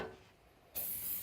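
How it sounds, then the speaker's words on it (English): A quick burst of cooking spray hisses onto a hot pan in a kitchen, starting abruptly after low background noise and holding as a steady, close, bright hiss with no one talking. "where we're going to go first is a quick spray"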